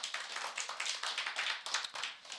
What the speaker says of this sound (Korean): 우리 박수를 한번 주님 앞에 영광 돌리겠습니다